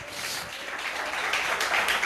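Congregation applauding during a church service, a dense steady wash of clapping with no voices over it.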